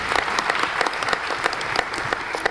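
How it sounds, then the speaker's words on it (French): An audience at a book dedication ceremony in the Daniel Sorano national theatre breaks into dense, lively applause, close and loud throughout with sharp individual claps standing out. "Je voudrais bien que vous l'applaudissiez"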